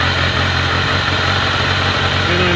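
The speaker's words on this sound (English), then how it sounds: "with the bike warmed up, charging at idle" A warmed-up Kawasaki ZRX motorcycle engine idles steadily nearby, a loud, even low chugging with no talking.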